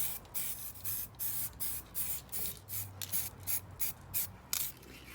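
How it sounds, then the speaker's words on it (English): High-temperature lacquer hisses from a spray can onto a motorcycle silencer during an ST170 restoration. About a dozen short, even bursts follow one another in a steady rhythm, with brief pauses between them. "We're going to put the extremely high temperature lacquer on the silencers."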